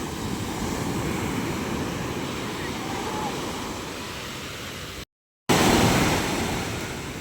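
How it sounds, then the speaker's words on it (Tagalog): Big sea waves crash and surge around a fishing boat as a loud, broadband roar of surf fills the clip, with wind buffeting the microphone, a brief dropout, then a fresh swell of breaking water. "Lalaki ng alon natin."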